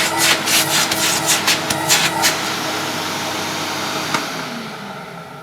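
A vintage Electrolux 330 cylinder vacuum cleaner runs with a steady whirring drone, joined early on by rhythmic rubbing or scraping strokes that stop, leaving the motor humming alone.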